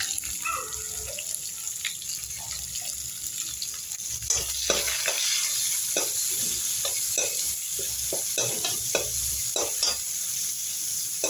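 Onions tossed into hot oil with bay leaves and cardamom for a chicken dish give a steady, close sizzle, broken by frequent clinks and scrapes of stirring and a brief splash of water, with no talking.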